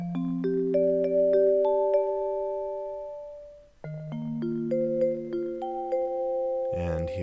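Synthesized melody from a chain of echo nodes in Noteworks music software: rising plucked tones stack into sustained echoing notes, a gap near the middle, then a second similar rising phrase ending in a brief noisy burst.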